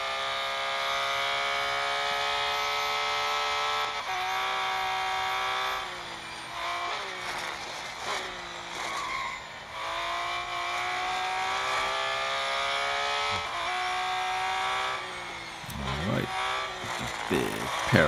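A 2019 Porsche 911 GT3 R race car roars through a lap of the Bugatti circuit in a racing video game, its engine note whining steadily and dipping and climbing with each gear change and corner for the whole stretch.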